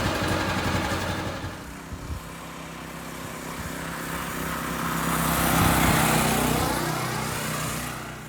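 A Harbor Freight Predator 212 small engine runs on a newly fitted carburetor, a continuous loud buzzing drone that rises in pitch and volume toward the middle as it revs, then eases slightly.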